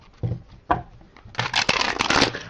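A deck of tarot cards is shuffled by hand: a few soft taps, then a longer burst of rapid riffling and flicking, close and fairly loud, with no voices.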